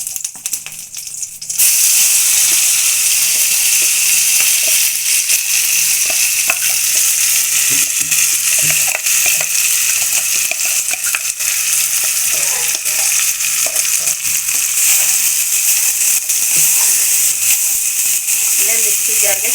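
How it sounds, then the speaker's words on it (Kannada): Curry leaves and freshly ground masala hit a hot pan for egg sambar, a brief quiet moment giving way to a loud, steady, continuous sizzle with occasional stirring scrapes up close. "ಇವಾಗ ಕರಿಬೇವು ಹಾಕ್ತಾ ಇದ್ದೀನಿ ನೋಡಿ"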